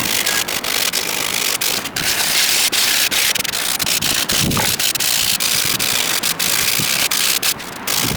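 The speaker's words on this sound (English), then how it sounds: "I'm gonna take it outside, and I am gonna sand the shit" A wooden table is sanded outdoors on a windy, rainy day, giving a loud, continuous, close scraping rasp that barely pauses for the full stretch.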